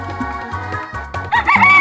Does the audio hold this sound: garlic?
no